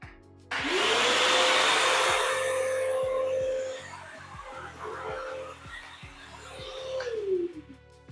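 A vacuum cleaner hose hooked to the blow outlet inside a school bus being converted into a home whirs loudly with a steady high whine, then eases down and winds off after several seconds.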